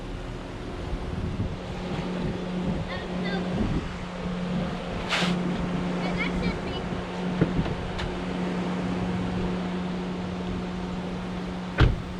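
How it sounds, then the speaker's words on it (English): A small boat's outboard motor runs steadily as the boat moves along on a beach outing, a constant low engine drone with wind and water noise, a few faint thumps and brief higher sounds over it. "The boat's gonna move."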